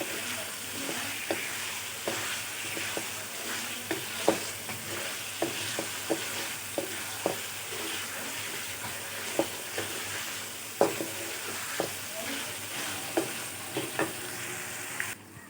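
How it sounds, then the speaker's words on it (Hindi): Chicken frying in a pot for daal gosht gives a steady, moderately quiet sizzle, punctuated by regular scraping and tapping as a spoon stirs and turns the meat, with no one talking. "चिकन को हमने थोड़ा सा भून लिया"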